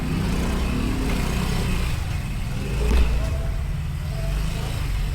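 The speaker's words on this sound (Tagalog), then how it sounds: "Nakita ko na yung XR200 Enduro type na motor niya." A Honda XR200 enduro motorcycle engine idles steadily up close, with a low rumbling throb that swells briefly as it revs before settling back.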